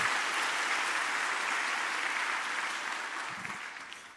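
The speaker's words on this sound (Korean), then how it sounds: "박수 한번 해주세요" Church congregation clapping during a Sunday worship service, a dense, even roar of applause from many hands that holds steady, then gradually tapers near the end.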